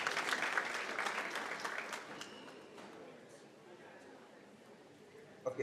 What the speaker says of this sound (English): Let's appreciate him with a hearty clap.